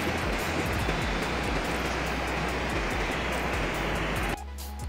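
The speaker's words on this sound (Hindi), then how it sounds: "यह सतलुज नदी काफी शोरगुल करती हुई शान से आगे बढ़ती जा रही है इस पुल के नीचे से।" The Sutlej river rushes loudly beneath the Baner Khad bridge near old Kangra, a dense continuous roar of churning water that drops off abruptly just before the end.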